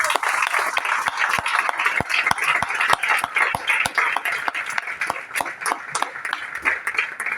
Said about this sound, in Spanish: Aplaudan al Rey.